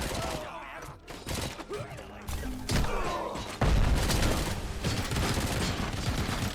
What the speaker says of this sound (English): I'm getting hit by like a light machine gun.